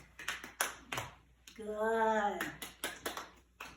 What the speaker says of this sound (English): And let's stretch and clap.